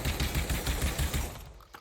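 A Saiga 12 automatic shotgun in the VR game Pavlov fires a fast, loud burst of about eight rapid booming shots that stops abruptly.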